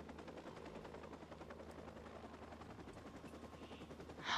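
Watch Dogs game helicopter hovering nearby, its rotor thrum steady under rattling gunfire, ending with a louder sharp burst.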